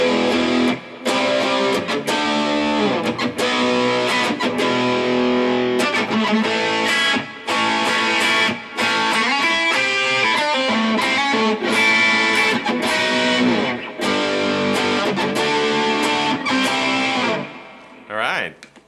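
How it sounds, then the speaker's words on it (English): Electric guitar on its bridge pickup played through a distortion pedal into a budget amp, a loud, saturated stream of chords and riffs with brief gaps near the end. "let me switch to distortion, but this is what it sounds like on the bridge pickup"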